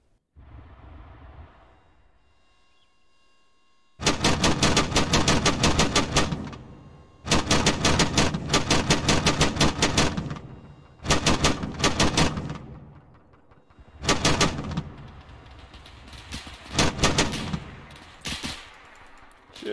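Automatic gunfire in the Arma 3 video game comes in several loud, rapid bursts separated by short pauses, after a quiet opening, with no speech.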